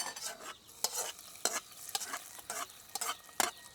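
Golden fried shallots go into a papaya curry, giving a series of sharp sizzling bursts and stirring scrapes, close but fairly quiet, in irregular spurts with no speech.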